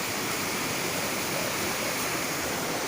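Mountain spring water in Kashmir rushes loudly down a stream, a steady dense broadband roar with no break and no voices over it.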